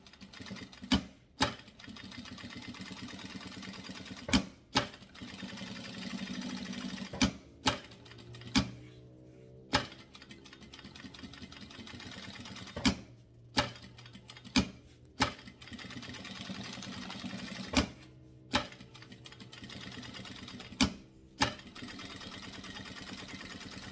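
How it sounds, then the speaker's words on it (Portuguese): A sewing machine runs a safety seam around a fabric cable holder in short, quiet bursts of stitching. Sharp knocks and pauses separate the runs, and no one speaks. "Vou levar para a máquina, passar aquela costura de segurança em volta de tudo"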